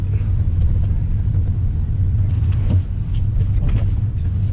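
A steady low rumble and road hum fill the cabin of a Tesla Model 3 Long Range electric car as it moves off, quiet and smooth with no engine roar or voices.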